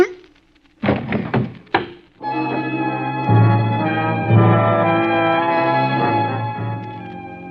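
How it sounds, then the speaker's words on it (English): A gun butt strikes a man's head in a radio drama: a couple of dull, close thuds and knocks, followed by sustained dramatic music. "Gun butts make a funny sound hitting a man's head."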